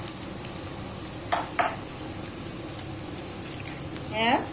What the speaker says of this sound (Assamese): অলপ ৰংচোৱা কৰি ল'ম পিঁয়াজখিনি। অভেন হাই ফ্লেমতে আছে।